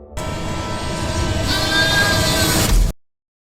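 A goat gives one long, loud, wavering bleat that swells toward the end and then stops abruptly, with nothing else audible.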